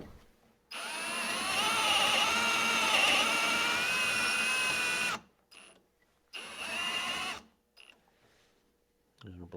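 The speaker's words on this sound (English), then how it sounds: "Drilling these 2 holes because that matches the holes that we saw that we drilled before." A power drill bores dowel holes in wood, running steadily for several seconds, then stopping and starting again in two shorter bursts, close and loud with no talking.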